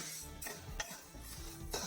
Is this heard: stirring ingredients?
yes